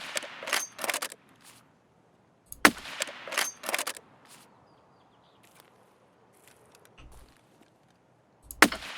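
Gunshots in Escape from Tarkov, a few short bursts and sharp single shots spread apart by quiet gaps, moderately loud over faint background ambience.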